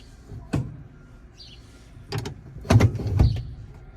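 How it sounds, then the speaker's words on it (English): The gear shifter of a 1952 GMC truck is worked through its positions, giving several close mechanical clunks and clicks with a faint rattle between them, with no talking. "Let's cycle our shifter here and see what happens."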